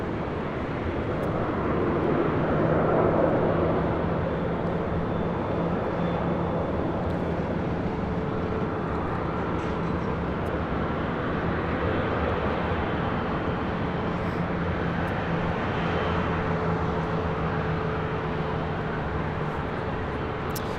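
Southwest Boeing 737 MAX 8 airliner at LAX airport, a steady broad jet engine roar with a faint whine, holding at an even loudness throughout as if idling or taxiing nearby.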